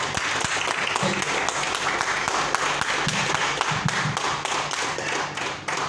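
Audience applause at a seminar meeting in Berhampur: a dense, steady wash of many hands clapping that holds for about six seconds, with some voices murmuring underneath.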